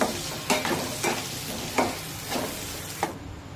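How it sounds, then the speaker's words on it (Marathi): Onion and tomato masala paste fries in hot oil and sizzles steadily for chickpea curry, while a spoon stirs it with regular scraping strokes about every half second, close and clear, with no talk. "आता तेल हलकंसं गरम झालं की हे वाटण टाकूया आणि तीन ते चार मिनिटे हे छानपैकी परतून घेऊ"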